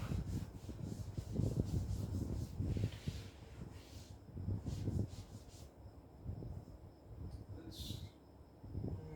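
Writing being rubbed out on a board during a calculus revision lesson: soft, repeated scrubbing strokes in uneven bursts, quiet and close, with brief pauses between passes.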